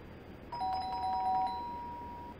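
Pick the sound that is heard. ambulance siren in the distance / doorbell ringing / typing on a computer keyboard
doorbell ringing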